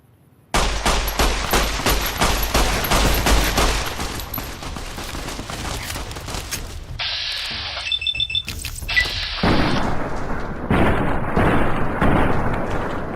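Sustained gunfire in Fallout New Vegas, an opening burst of rapid automatic shots followed by scattered blasts, alarm-like electronic tones and further loud firing, all close and without speech.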